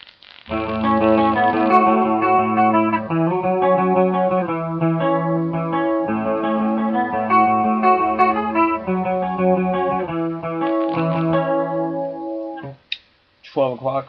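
Electric guitar played through an EHX Small Clone chorus pedal switched on, a steady run of shimmering, warbling chords and notes ringing loud and alone for about twelve seconds before stopping.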